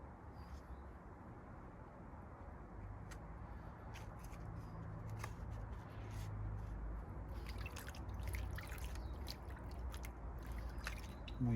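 Water poured gently onto a freshly transplanted, repotted plant, a faint steady trickle with soft drips and splashes against low background hum, growing slightly fuller toward the end.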